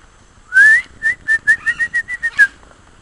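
About ten short, bright whistled parrot calls on a farm in Guyana, in a quick, uneven run, fairly close and clear over a quiet background.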